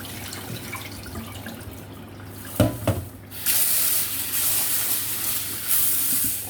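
Bean sprouts being washed under a running tap, with splashing and rinsing, then a steady gush of faucet water filling the container.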